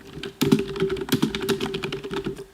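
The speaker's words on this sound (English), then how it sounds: "Yeah, I know my keyboard is loud." A loud computer keyboard clatters under fast typing, with irregular bursts of sharp, clacky keystrokes close to the microphone and no one talking.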